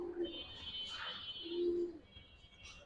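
Giribaz silver pigeons give a couple of soft, low coos close by, with faint chirpy bird calls above and light background noise.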